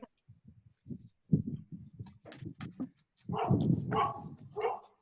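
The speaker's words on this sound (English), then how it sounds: "you're hearing the neighbor's dog" A neighbour's dog barks in a quick run of short yaps, fairly close, mixed with and followed by people talking outdoors.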